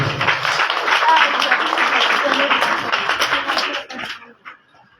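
A crowd claps in dense, sustained applause for a prize-winning student at an awards ceremony, then fades out near the end.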